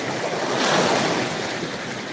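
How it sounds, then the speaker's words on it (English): Ocean waves washing on a beach, a steady loud broadband surf roar with wind noise on the microphone, continuous throughout with no talk. "Yes, it's the waves. It's beach sound, yeah?"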